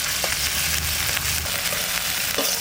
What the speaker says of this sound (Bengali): এবার আদা আর রসুন একটু নাড়াচাড়া করে নিই